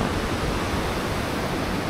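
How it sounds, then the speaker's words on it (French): The Cascade de la Louche waterfall near Isola village in the French Alps pours in a steady, dense, loud rush of falling water with no pauses. "La cascade de la Louche."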